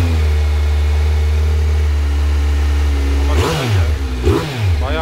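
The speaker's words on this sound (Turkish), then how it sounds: "Bunun sesi de sakindir şimdi. Orijinal egzoz." A 2017 four-cylinder Kawasaki motorcycle with 15,000 km on its stock exhaust idles with a steady low throb, then revs sharply twice near the end, sounding fairly mellow.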